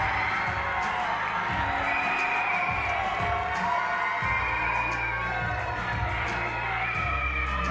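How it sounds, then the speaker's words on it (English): A pageant audience cheers and shouts over a steady hum, with whoops and calls rising and falling throughout, while sustained music or tones run underneath. "Let's hear from the crowd."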